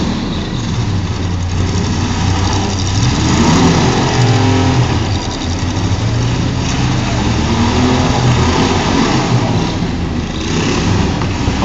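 Car engines rev and roar at a six-cylinder demolition derby, loud and close, with low rumbling engines rising and falling in repeated revs and a constant din of crowd and machine noise.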